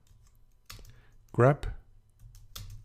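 Keys clatter on a computer keyboard as a Linux terminal command is typed, with a few scattered clicks near and soft and a short burst of speech in the middle.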